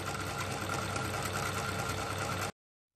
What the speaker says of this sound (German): wir sehen hier, dass die Nadelstange rauf und runter geht. Diese Welle wird immer direkt vom Motor angetrieben.